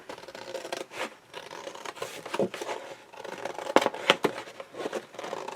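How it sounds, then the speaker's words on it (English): Scissors snip and rasp through a cardboard box being cut down for craft room storage, close up, with irregular bursts of cutting and rubbing and no talk. "because it won't fit in my cutter, so I have to use scissors"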